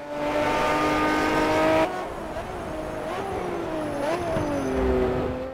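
An Aston Martin V12 Vantage GT12 racing in Project CARS, its V12 engine howling at high revs, then dropping and climbing through repeated gear shifts and revs, loud and close throughout.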